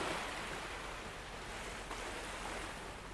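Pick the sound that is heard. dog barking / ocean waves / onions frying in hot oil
ocean waves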